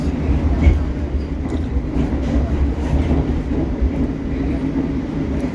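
Steady low rumble and rolling rail noise inside a moving Argo Bromo Anggrek express train between Jakarta and Surabaya, continuous and fairly loud with faint clatter, no talking.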